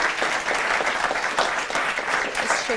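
A studio audience at a televised debate semi-final applauds the contestants and winners, a loud, sustained, even wash of many hands clapping.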